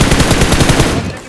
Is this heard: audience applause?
no